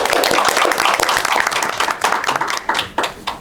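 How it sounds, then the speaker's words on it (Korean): Audience at a hospital policy seminar applauding the panel, loud close clapping from many hands that stays full at first and then thins into scattered, separate claps as it tapers off. "우리 패널 분들께 다시 한번 큰 박수 부탁드립니다"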